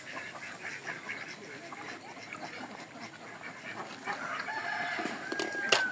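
Outdoors amid a busy, noisy barnyard bed while ducks are being fed, poultry calls and rooster-like cries rise faintly through the clutter, with a sharper sound near the end.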